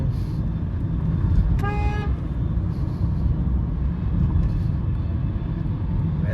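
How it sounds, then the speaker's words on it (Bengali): A single short car horn blast rings out over the steady rumble of late-night road traffic in Dhaka. "হর্ন দেওয়া আমি এত অপছন্দ করি, কিন্তু দিতেই হয়"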